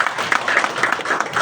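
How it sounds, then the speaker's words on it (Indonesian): Brief burst of audience applause at a sharia economic outlook business event in a hall, dense clapping fairly loud and close, lasting just over a second. "tepuk tangan dulu untuk beliau."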